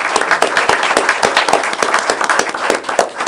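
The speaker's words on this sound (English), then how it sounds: "And I ask you to give me a round of applause for Ben." A public meeting audience gives a round of applause, loud and fairly thin, with individual sharp claps standing out in a quick, uneven rhythm throughout.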